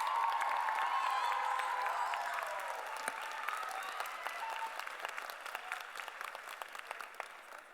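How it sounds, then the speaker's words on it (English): A citizens' assembly audience bursts into sustained applause with some cheering for candidates, loud at first then gradually thinning into scattered claps. "Everybody give yourselves a round of applause and give these ladies a round of applause."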